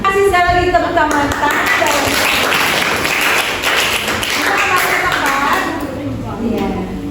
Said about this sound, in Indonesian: Kasih sekali lagi tepuk tangan.